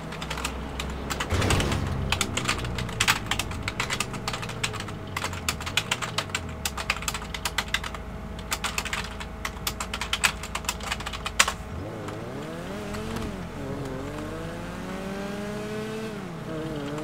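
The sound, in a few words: typing on a computer keyboard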